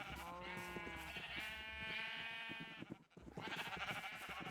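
Repeated Minecraft sheep bleats, a long wavering call followed by another after a short gap, fairly close and clear.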